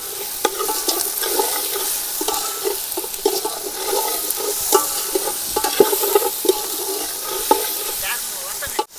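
Chicken being stirred and fried in a pot for chicken pulao at an outdoor picnic near a waterfall. A loud, continuous sizzle is broken by repeated scraping of a utensil against the pot, with no voices.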